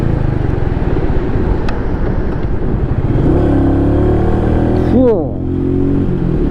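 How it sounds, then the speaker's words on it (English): A Royal Enfield Meteor 350 cruiser growls as it accelerates along a road, a close, steady engine drone that climbs in pitch before easing off near the end. "The engine growl is so awesome"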